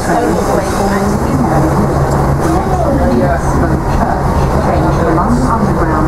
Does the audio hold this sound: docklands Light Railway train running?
yes